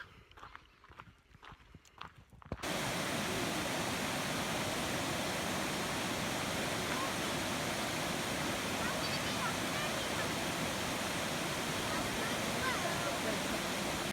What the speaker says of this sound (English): This is the biggest waterfall here